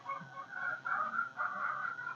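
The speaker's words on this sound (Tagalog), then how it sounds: "Bigay ko sa mga manok" Several chickens cluck softly and continuously nearby while being fed leftover spoiled rice, their murmuring calls overlapping in a low, steady chatter.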